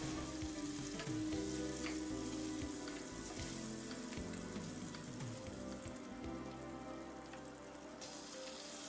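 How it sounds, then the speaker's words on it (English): Bacon fries in a pan, a steady dense sizzle with crackling pops running throughout, fairly quiet and close, with occasional soft scraping of a utensil and no voices. "Cook the bacon until the fat is rendered."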